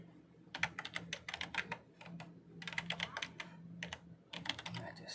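Rapid clusters of crisp keystrokes on a computer keyboard, close and clear, typed in irregular bursts with short pauses between them and no talking.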